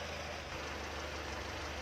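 A car engine idles steadily after a power steering fluid flush, a low, even rumble with no revving, heard alone at moderate level.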